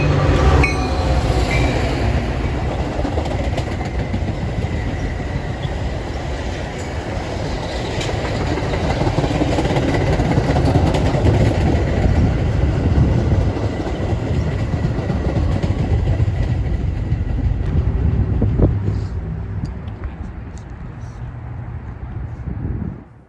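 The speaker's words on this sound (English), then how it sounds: "the next outbound arrives into Belmont right on time, with engine 210 pulling an 8-car consist" An outbound Metra commuter train hauled by engine 210 with eight cars arriving at Belmont station, a loud close rumble of wheels with clickety-clack and some squeal, swelling in the middle and easing toward the end.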